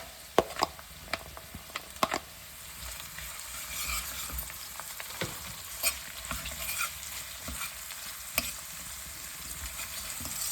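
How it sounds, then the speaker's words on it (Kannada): Onions sauté in a pan for white sauce pasta, giving a continuous crackling sizzle with frequent scraping stirs and clicks of a utensil against the pan, close by and with no voices. "ನೋಡಿ, ಈರುಳ್ಳಿ ಸಾಟೆ ಆಗ್ತಾ ಇದೆ."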